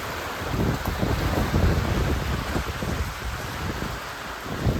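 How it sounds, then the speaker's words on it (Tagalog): Sudden heavy downpour at a beach road in Saipan, a steady broadband wash of rain with gusty wind buffeting the microphone, loud and continuous throughout with no voices. "Biglang bumuhos ang ulan"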